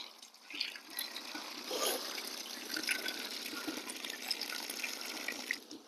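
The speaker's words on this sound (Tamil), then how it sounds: "பிளான் பண்ணதுக்கு தண்ணி ஊற்றணும்." Water is poured from above onto the soil around a newly planted jamun sapling in a garden, a steady splashing gush close by that lasts several seconds with slight surges.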